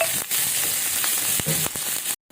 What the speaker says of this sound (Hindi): फ्राई कर लेते हैं।